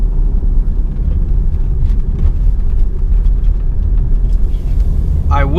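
A 2016 Land Rover Discovery Sport cruising through daytime Miami, Florida, heard from inside as a constant loud low rumble of engine and road noise, steady throughout with a brief higher sound at the end.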